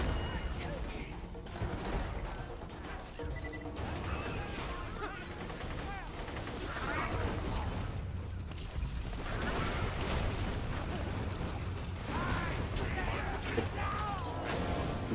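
Gunfire from a video game shooter during a bunker fight, a dense, continuous clatter of rapid shots and mechanical clanks with no let-up, heard loud throughout.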